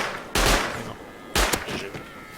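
SMG gunfire in a video game, two short sharp bursts of rapid shots about a second apart, loud and close, with a brief crackle after the second burst.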